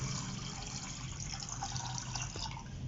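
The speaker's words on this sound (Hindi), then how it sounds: "अब हमने इसमें 2 मग के करीब पानी डालना है" Water is poured from a mug into a pot of rice for jaggery rice, a steady splashing, trickling flow with some drips. It sounds close and fairly soft, and no one speaks.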